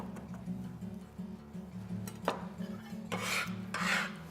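Knife mincing fresh rosemary on a board, a run of soft rasping chops and scrapes at close range, ending with a couple of louder brushing sweeps, no talk.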